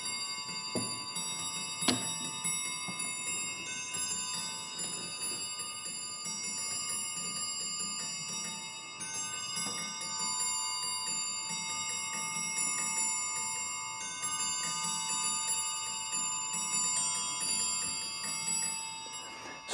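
An 18th-century musical clock plays a tune, its bright bell-like chimes ringing out a steady melody with sustained tones, heard close in a quiet room.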